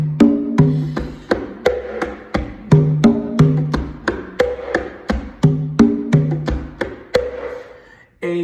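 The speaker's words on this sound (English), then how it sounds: "a ballad, also called in Latin music a bolero, is played slower" Conga drums play a slow, romantic bolero rhythm, evenly spaced open tones and slaps in a steady repeating pattern, close and clear with no voices.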